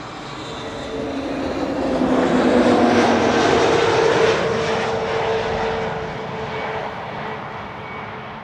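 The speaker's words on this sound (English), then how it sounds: "EasyJet flight 22515 arriving from London Luton, an A320neo" An EasyJet Airbus A320neo arriving from London Luton passes close, its jet engines producing a loud, continuous roar with a sliding tonal whine that builds to a peak and slowly fades, with no voices.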